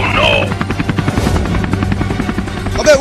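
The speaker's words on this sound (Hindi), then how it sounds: "वो हेलीकॉप्टर कैसे उड़ रहा है" A helicopter's rotor whirs with a rapid, rhythmic chopping pulse, accompanied by voices and tonal sounds near the start and end.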